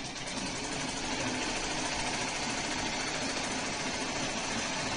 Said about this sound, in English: to have a sewing machine, at least like this one